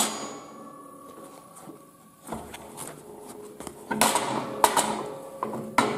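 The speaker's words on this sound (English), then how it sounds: "So I can just go in between here and lever it open." Separator tool levered between the halves of a wishbone joint on a clutch cable adjustment screw, giving a run of small metallic clicks, scrapes and clanks, close by and fairly quiet, getting busier and louder toward the end.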